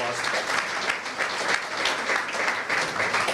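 Guests at a business luncheon in a club applaud, a full, continuous round of many hands clapping at steady loudness, with a voice faintly present beneath it.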